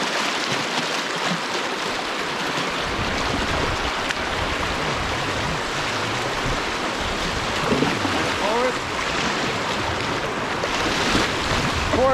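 Rushing water and wind noise fill the scene as a canoe is paddled through river current in the Canadian wilderness, with a loud, steady wash and faint splashes, and a voice briefly audible beneath it.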